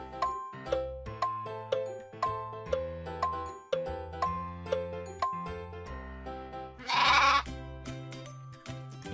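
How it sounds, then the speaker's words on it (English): A sheep gives a single short bleat near the end, set against a bouncy plucked-note music track that plays steadily throughout. "Sheep."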